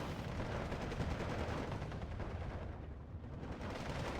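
Small machine guns fire in the Steel Division video game as a dense, continuous crackle of rapid shots, steady and moderately loud with no voices.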